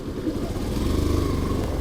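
Steady low motorcycle engine running close by, a continuous rumbling drone with slight rises in revs throughout, with no talk over it.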